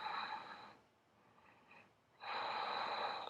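Two audible breaths during a Pilates exercise: a strong airy inhale, a quieter pause, then a long forceful exhale, close and clear with no talk over them.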